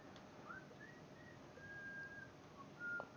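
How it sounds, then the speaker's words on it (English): A farmer whistles a wandering tune in short melodic phrases in the video game Farming Simulator 19, faint and somewhat distant over a soft background hum. "there's the farmer whistling away in the background"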